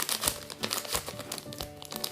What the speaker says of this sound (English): I'm just going to pour all the contents in this container.